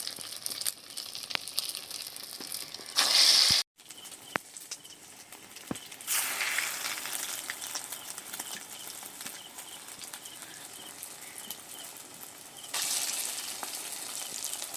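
Egg-coated flour and potato snacks deep-fry in oil in a kadai, giving a steady crackling sizzle. The sizzle swells louder in stretches, with a few sharp clicks and one brief scrape against the pan.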